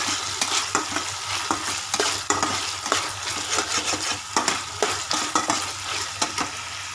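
Soya chunks with soy sauce sizzle in a pan while a utensil stirs them briskly, giving a rapid run of clattering scrapes over a constant frying hiss.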